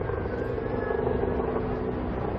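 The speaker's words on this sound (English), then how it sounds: "we can already feel the presence of some helicopters heading towards St. James's Park" Military helicopters in a ceremonial flypast over St. James's Park, a formation led by a Chinook with a Griffin, a Puma and an Augusta 109 SP, give a steady, broad rotor and engine rumble that holds evenly throughout.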